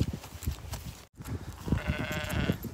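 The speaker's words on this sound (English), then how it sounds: "I'm being stalked by some sheep." Sheep bleat close by on farmland along a rural right of way in Northumberland, several wavering calls over rustling movement and wind, near and fairly loud with no talk.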